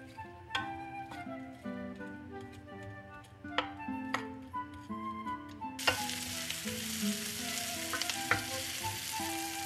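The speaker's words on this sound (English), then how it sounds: "We'll saute the onion until almost soft." A large onion, sliced lengthwise, sautés in olive oil. Its soft sizzle rises abruptly partway through and continues steadily beneath background music with plucked notes.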